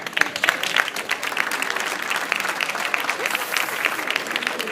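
A standing audience at a live water-scarcity debate in Doha claps together, a thick, continuous wash of many hands, near and steady for the full stretch with faint crowd murmur.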